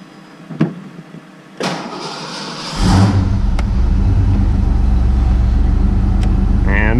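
After a short whir and clunk, a car engine cold-starts and settles into a loud, steady, close idle that keeps running to the end.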